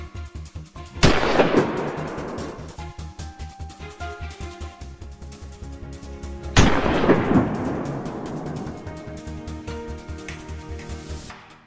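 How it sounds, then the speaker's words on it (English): Two loud, sharp rifle shots ring out several seconds apart with long booming decays, fired by a hunter at a wild boar on a hillside potato farm, over a steady rhythmic pulsing background. "Without hesitation, David's shot rang out decisively."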